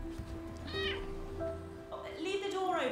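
A kitten gives two short, rising-and-falling meows close by, one near the start and a longer one near the end, with a low hum and some background room noise in between.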